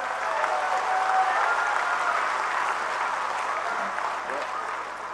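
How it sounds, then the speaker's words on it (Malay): A hall audience claps for the Deputy President at an UMNO assembly, broad sustained applause that holds steady and eases slightly toward the end, with no voices over it. "Tepukan untuk Timbalan Presiden."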